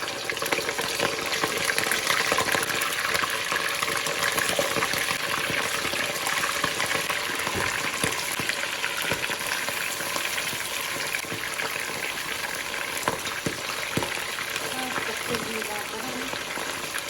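Meat for kazan kebab fries in hot oil in a kazan, a loud, continuous crackling sizzle heard up close with scattered pops and stirring clatter throughout.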